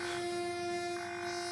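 Horn of a slow-moving train, a sustained, steady multi-tone blast held through the whole short clip, with a slight shift in pitch partway through and faint rail rumble underneath.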